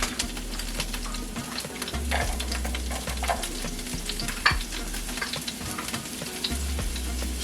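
Shrimp sautéing in oil with fresh green seasoning, a steady close sizzle running throughout, with occasional stirring scrapes and one sharp clink near the middle.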